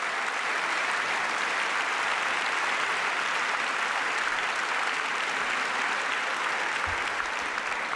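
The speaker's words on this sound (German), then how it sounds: "Ich hatte mit etwas weniger Applaus gerechnet, gebe ich ehrlich zu." Dense, steady applause from a large crowd at a party congress, continuous and loud for the whole stretch without a break.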